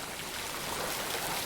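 Steady broadband rush of a waterfall in the video game Indiana Jones and the Great Circle, a constant close wash of falling water with no other distinct sounds.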